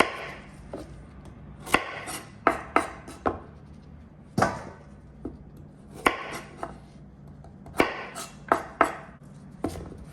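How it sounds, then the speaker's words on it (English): A knife chops the stems off carrots on a cutting board, giving sharp, irregular thuds and clacks close by, some in quick pairs and some spaced a few seconds apart. "So now we're gonna go ahead and cut off all these stems of the carrots."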